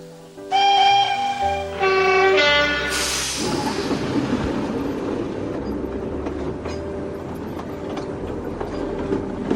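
A train with a horn or whistle blaring in several tonal blasts, then a heavy rumbling, clattering run along the rails that stays steady and close, with music-like tones at the start and no speech.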